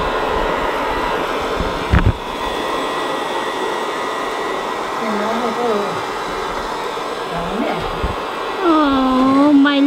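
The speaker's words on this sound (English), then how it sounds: "Oh, my little robot Hoover." A Housmile robot vacuum cleaner runs with a steady whirring motor drone, close and fairly loud, with a sharp knock near two seconds and rising tonal chirps toward the end.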